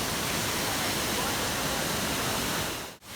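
Mantayupan Falls in Cebu, a high waterfall, roaring as a dense, constant wash of rushing water that fills everything before a brief dropout near the end.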